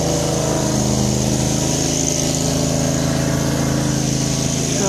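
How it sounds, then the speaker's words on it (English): A gasoline lawn mower drones steadily in the background at an outdoor protest gathering near Terrace Hill, a continuous mid-pitched engine hum running the whole time without pause. "There's a lawnmower going behind me"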